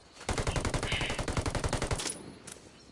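Rapid automatic gunfire in the video game Ghost Recon Wildlands, a loud close burst of about twenty evenly spaced shots for nearly two seconds, then a couple of fainter distant pops.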